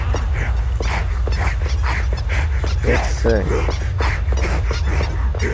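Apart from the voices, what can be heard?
dog whimpering and barking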